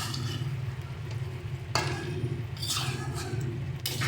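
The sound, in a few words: stirring chicken curry after adding gondhoraj lemon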